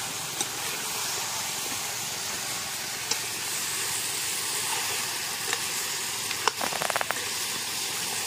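Goat head meat curry frying in a pan, a steady dense sizzle that holds throughout with a few faint clinks near the end.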